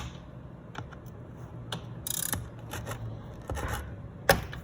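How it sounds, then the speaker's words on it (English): Drain bolt being cracked loose on a Kawasaki Ninja ZX-6R motorcycle during an oil change: a few short metallic clicks and ratcheting scrapes, moderately close, ending in a sharper snap, with no talking. "crack loose the drain bolt"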